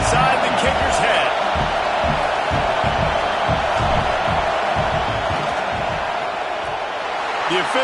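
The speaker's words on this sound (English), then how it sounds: "This crowd trying to do its part to get inside the kicker's head." Stadium crowd at a Miami vs Notre Dame college football game roaring during a field goal attempt, a dense, loud, sustained wall of cheering and yelling with an announcer talking over it.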